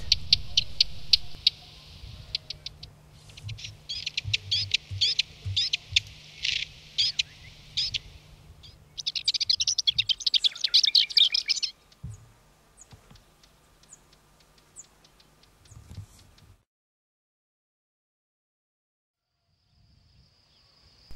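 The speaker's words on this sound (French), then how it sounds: "la fauvette Passerinette." Subalpine warbler song from a site between Aragon and Extremadura in Spain: bursts of scratchy, rapid twittering phrases repeated over about twelve seconds, fairly close and clear, then fading to near silence with a faint distant call at the end.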